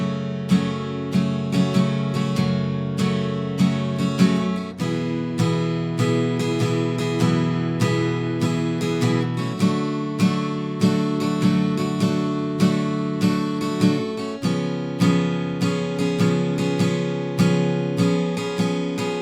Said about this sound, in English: we're going to play that strumming pattern twice on each chord